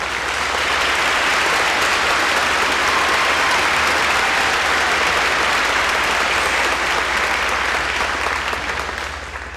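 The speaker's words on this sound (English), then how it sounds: "Please give them a round of applause." An audience at a spring middle school promotion ceremony applauds in a steady, dense wash of clapping, loud and sustained for several seconds before easing slightly at the end.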